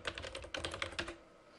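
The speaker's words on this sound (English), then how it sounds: "So you enter in your email address," Someone types an email address on a computer keyboard, a rapid, close run of light key clicks over about a second, fading into quiet room tone.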